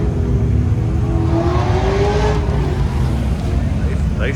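Cars at an autocross event at LS Fest 2021 do burnouts nearby, with revving engines and a rising, squealing whine blending into loud traffic-like rumble while a person talks over it.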